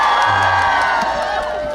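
A festival crowd at a cherry blossom festival at Okjeong Lake in Imsil cheers and shouts for a singer on stage, a dense steady roar of voices with whoops held at a loud level for the whole moment.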